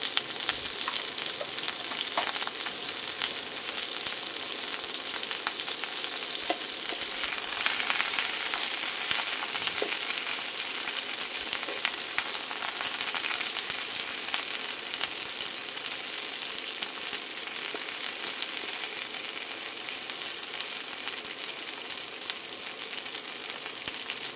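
Cashew nuts, garlic and cauliflower curry ingredients fry together in a pan, a steady close bright sizzle with occasional crackles and light stirring, unbroken by talk.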